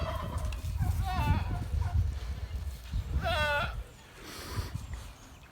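Goats bleat in a homestead pen stocked with hay and climbing spots, two clear wavering calls a couple of seconds apart, close and fairly loud over low rustling.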